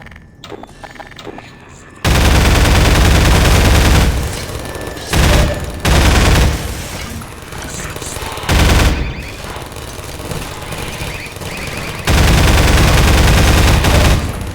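A mounted turret machine gun in Half-Life 2 hammers out loud, sustained bursts broken by short pauses, with a voice speaking between and under the firing.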